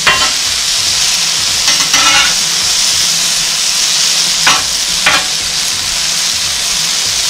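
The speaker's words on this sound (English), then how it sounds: "I'm going to go ahead and stir up these veggies a little bit." Vegetables sizzle on a hot griddle beside cheeseburger patties, with a steady close frying hiss broken by a few sharp scraping stir strokes.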